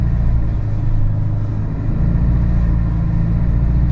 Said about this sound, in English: we have 4-wheel drive, of course, so it's climbing up the hill very well.